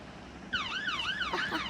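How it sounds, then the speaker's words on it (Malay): A video game police siren wails, rising and falling in quick repeating sweeps, fairly loud, starting abruptly over a faint background hum, in Roblox Brookhaven. "Siren."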